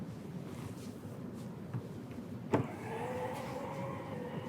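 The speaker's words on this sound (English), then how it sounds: "The one on the left-hand side will close the tailgate and lock the vehicle." A Subaru Forester e-BOXER power tailgate closes: a faint whirring motor hum under quiet background, then a sharp latch thunk midway followed by a steady higher electric whine, nearby and fairly soft.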